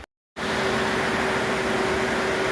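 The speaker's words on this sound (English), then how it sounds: "The noise you're hearing is the fans." Fans running on a back porch give a steady, close broadband whir with a faint constant hum, continuous after a brief silent gap at the start.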